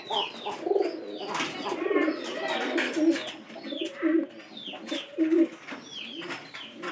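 Several pigeons coo repeatedly in low, throaty rolling phrases at close range, layered with fainter bird chirps in the background; no one speaks.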